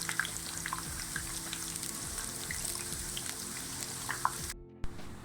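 Potato and keema tikki fry in a pan with a steady, close sizzle and scattered pops and crackles. Near the end the sizzling cuts out briefly, then a small clatter follows.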